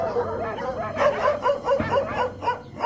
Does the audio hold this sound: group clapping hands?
no